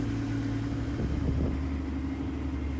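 A safari vehicle drives along a track toward the lodge, its engine a low steady rumble with faint rattles, continuous and close.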